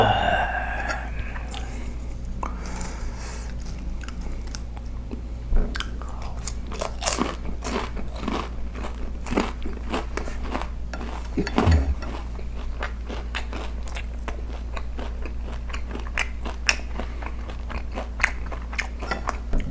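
Close, crisp crunching and chewing as someone bites into crispy fried chicken, with repeated sharp crackles over a steady low background hum.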